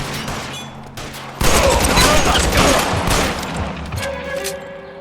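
Gunfire in the video game L.A. Noire: after a quieter stretch, a sudden loud fusillade of rapid overlapping shots and booms erupts and continues to the end, with faint music underneath.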